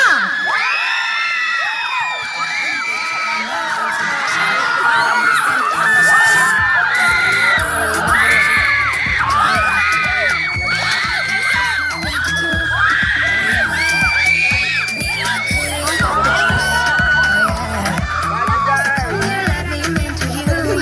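A pageant audience shouts, whoops and cheers for a contestant without a break, with children's shrill screams mixed into the loud, dense crowd noise.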